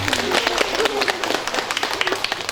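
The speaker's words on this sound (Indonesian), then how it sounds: "Luar biasa tepuk tangan untuk mereka" Applause for junior high school students at a thanksgiving Mass for a village head's inauguration, a short burst of clapping under speech.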